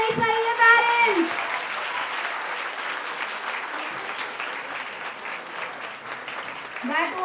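An audience of parents applauds a 9th standard girls' performance at a school annual day, sustained clapping over a loud voice at the start and again near the end.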